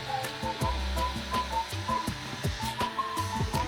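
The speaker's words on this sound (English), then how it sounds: "Something's cooking up in a 3D printer and it's for me." A newly set up 3D printer at work printing a vase, its stepper motors whirring and humming in short stuttering moves with a steady mains-like hum, alone.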